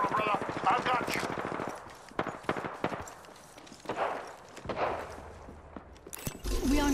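Gunfire from Apex Legends on the Kings Canyon map, with sharp bursts of rapid shots and scattered single cracks at varying distances over a stretch of game noise, and voices now and then.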